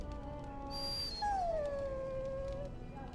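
A dog in Dragon Age: Origins lets out a drawn-out, high whimpering whine that slides downward in pitch, close and fairly clear, over a quiet background.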